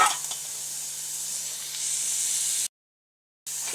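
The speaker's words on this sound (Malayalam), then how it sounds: "ഇതൊക്കെ സബോളയൊക്കെ നന്നായിട്ട് വഴറ്റിയെടുക്കണം കേട്ടോ" Sliced onions sautéing in a pan for a Kerala vegetable stir-fry give a steady, close hiss and sizzle, broken once by a short silent gap before the frying resumes.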